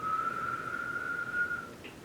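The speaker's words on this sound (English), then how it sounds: "So if you already know you can whistle, you can do a little whistle." A person gives a single thin, steady whistle held for about a second and a half, fairly faint with no talking.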